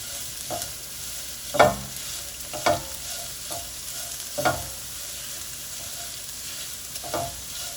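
Shallots and green chillies sauté in a pan with a soft, steady sizzle, broken by a handful of louder scraping stirs at irregular intervals, close up with no voices.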